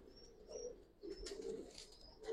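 Giribaz pigeons in a loft, including a jet-black male, give faint, soft coos in short low bursts, with light rustling nearby.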